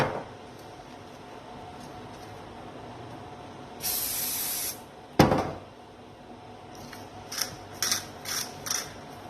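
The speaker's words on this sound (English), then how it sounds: "when our pan's hot on medium heat, we just want to spray it with some oil." An oil spray can hisses one steady burst of about a second into a hot pan on medium heat, then a sharp clunk and a few short clicks and knocks in a quiet kitchen.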